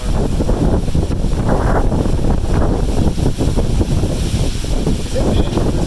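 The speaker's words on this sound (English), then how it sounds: "Yeah, that wind was great." Strong gusts of wind from an intense thunderstorm with wind-driven rain roar steadily and loudly across the whole stretch, buffeting the microphone as a continuous dense rush.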